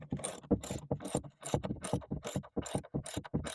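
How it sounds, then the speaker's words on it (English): A half-inch socket wrench ratchets in a steady run of sharp clicking bursts, about a dozen quick strokes close up while fastening a greenhouse frame, with no one talking. "One half socket wrench."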